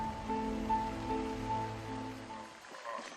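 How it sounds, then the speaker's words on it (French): Heavy jungle downpour hissing steadily and loudly as a dense, continuous wash of rain, with a faint tonal hum beneath, thinning out near the end. "Chaque jour, pendant plusieurs heures, des trompes d'eau s'abattent, inondant le sol et rendant l'atmosphère très humide."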